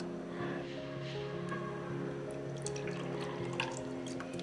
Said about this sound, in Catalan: Per començar, posarem una mica d'aigua al got.